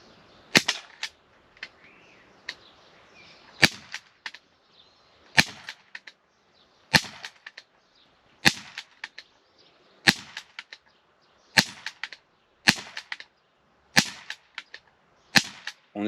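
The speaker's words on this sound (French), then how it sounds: "on vient chambrer et on est parti pour le tir sur cible" A Jericho IWI 4.5mm BB air pistol with a heavy metal slide fires at a target about seven metres away, giving a dozen sharp, snappy cracks spaced a second or so apart, close and loud against quiet between shots.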